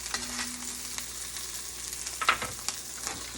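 Salmon frying in oil and butter in a pan gives a soft, steady sizzle, with a few light clinks and taps from the pan; no one speaks.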